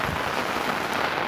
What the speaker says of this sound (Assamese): আৰু বৰষুণ চাওক না গাইজ কেনেকুৱা বৰষুণ